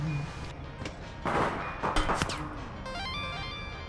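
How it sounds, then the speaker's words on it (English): Weapons firing in the video game APB Reloaded: a few loud, close gunshots and impacts in quick succession over a busy game background, followed by fainter tonal game sounds. "Firing and changing weapon stance."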